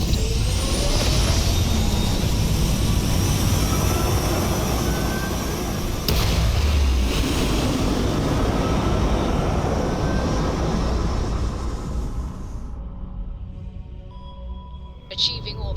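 Starship liftoff to orbit in the Starfield game: a dense, sustained engine roar and rumble filling the scene for about twelve seconds, then dropping away abruptly to near quiet with a brief electronic chirp at the end.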